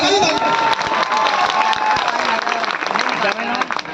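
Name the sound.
audience clapping and cheering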